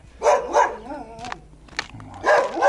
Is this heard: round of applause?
no